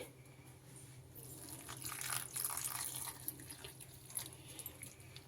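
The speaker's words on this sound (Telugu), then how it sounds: "దీంట్లో కొంచెంగా వాటర్ యాడ్ చేసుకోవాలి." Water trickles and splashes steadily into a bowl of onion pakoda batter at close range, swelling louder midway before easing into a softer, uneven pour.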